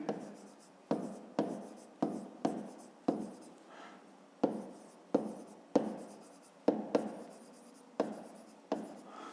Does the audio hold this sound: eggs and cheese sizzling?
no